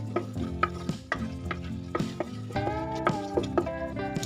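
A spoon scrapes and stirs shahi paneer masala in a hot pan, with repeated rhythmic clinks and scrapes over a soft sizzle, close and with no talking.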